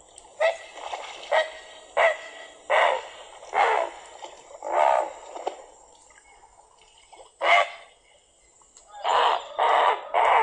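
Great blue heron giving a series of harsh, guttural croaks, about a dozen rasping calls in uneven bursts with short gaps, fairly loud and close with no talking.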